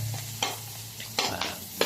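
Garlic and onion, already browned, frying in a pan with a soft sizzle and several short scraping stirs of a utensil, close and fairly quiet.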